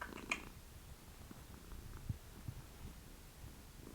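A cat purring softly and steadily up close, a low continuous rumble with faint throbbing pulses in a quiet room.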